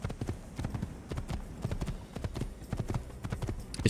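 Horse hooves clip-clopping in a steady rapid rhythm as a rider gallops in an Assassin's Creed game, close and continuous, with a faint voice underneath.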